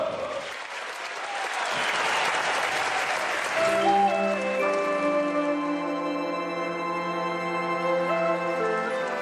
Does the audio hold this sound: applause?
yes